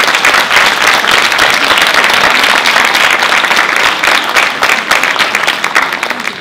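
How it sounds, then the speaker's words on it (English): Loud, sustained audience applause at an award ceremony at the WIP Annual Summit 2013 in Iceland, a dense continuous roar of many hands clapping together that holds steady and tapers only slightly at the end, with no talk. "I want to ask you to give her applause."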